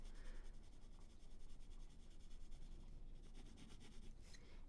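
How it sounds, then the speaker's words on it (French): A Faber-Castell Polychromos white colored pencil rubs steadily over alcohol marker on paper with light pressure, making a continuous soft, close scratchy rasp. "Et maintenant, on va utiliser le blanc sur le feutre alcool."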